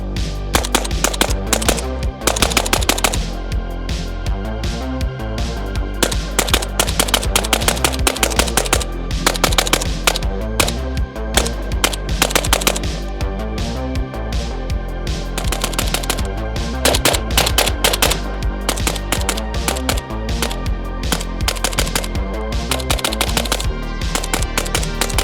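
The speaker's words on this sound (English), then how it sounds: "At the range today with my ZPAP 85, and it has the SMS laser HFXC." Sustained, loud rapid-fire bursts from a ZPAP 85 rifle fitted with an SMS laser HFXC at an outdoor range, with sharp shots running almost continuously and only brief gaps between strings.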